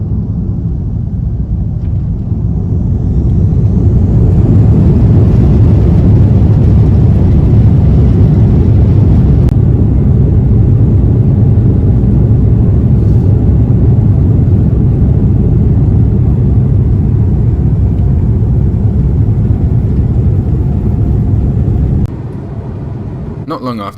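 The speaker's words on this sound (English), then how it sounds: "we made the long taxi to one of Changi Airport's runways for a long takeoff roll" A Lufthansa Airbus A340-300 accelerates on its takeoff roll at night at Changi Airport, a loud, steady low engine roar and rumble that swells early on and holds strong, heard from inside the cabin.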